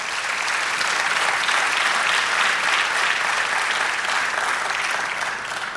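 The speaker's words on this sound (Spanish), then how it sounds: "Del aplauso al Señor." A church congregation breaks into loud, sustained applause, a thick continuous clatter of many hands filling the whole stretch without speech.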